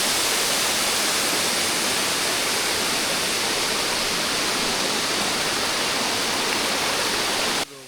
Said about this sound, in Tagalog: hearing the sound of falling water